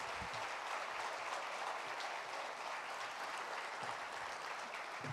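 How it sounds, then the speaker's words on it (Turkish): A crowd applauds steadily, a dense, even wash of clapping that holds at the same level throughout before cutting off. "Canlı olarak onlara bir alkış rica edeyim."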